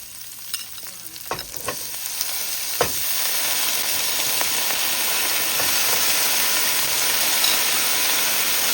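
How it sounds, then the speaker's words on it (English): Okra dropped into deep-fry oil: a few sharp spatters and clinks give way to a strong, steady sizzle that holds close and even to the end. "And now I'm going to put in the okra in."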